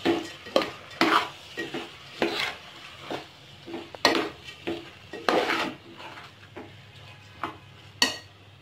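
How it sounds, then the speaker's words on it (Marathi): Rice stir-fried with spices in a pan for masale bhat: repeated close scrapes and knocks of a spoon against the pan in a loose rhythm, over a faint sizzle, with no talk. "आता सर्व जिन्नस आपण एकदा छान भातासोबत परतून घेऊ"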